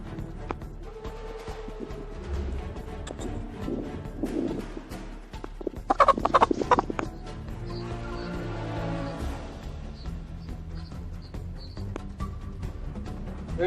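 A chicken clucks and squawks in bursts as it is chased around outdoors, with scuffling footsteps and a few raised voices nearby.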